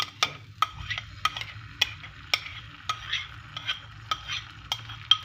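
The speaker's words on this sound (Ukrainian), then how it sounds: "цю масу всю я викидаю на сковорідку" Egg mixture hits a hot, oiled frying pan with a soft sizzle, while a utensil scrapes and taps against the pan in irregular clicks nearby.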